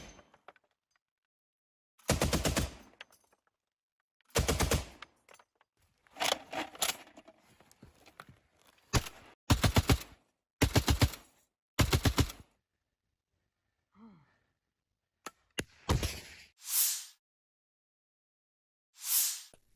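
Heavy cannon and gunfire from a T-72B tank crew shelling an enemy fortification, delivered as a string of loud, sharp blasts in irregular bursts with short silent gaps between them.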